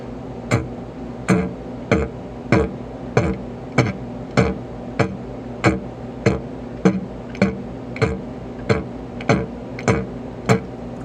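A didgeridoo is played with a steady string of very short, clipped breath pulses, about fifteen evenly spaced bursts with sharp attacks. It is close and clear, with no talking.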